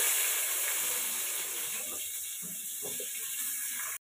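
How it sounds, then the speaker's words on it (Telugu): Chopped onions dropped into hot oil in a pan for fish curry, giving a steady broad sizzling hiss up close that fades slightly as it continues. "అదే ప్యాన్కి తగినంత ఆయిల్ వేసి కట్ చేసి పెట్టుకున్న ఉల్లిపాయలు వేయాలి"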